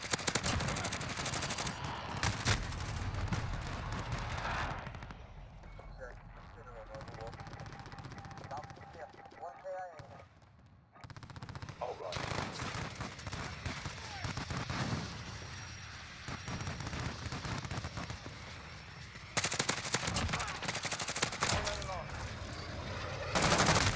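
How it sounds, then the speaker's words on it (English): An enemy precision airstrike in a Call of Duty-style video game brings dense machine-gun fire, artillery-like booms and explosions in sustained loud stretches, broken by quieter gaps, with radio-style voice callouts over the combat. "Enemy precision airstrike."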